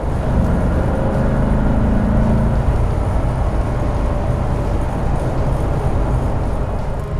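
A 1990 Corvette ZR1 cruises along a highway, its engine holding a steady drone with a faint rising tone early on, heard from inside the car under constant road and wind noise.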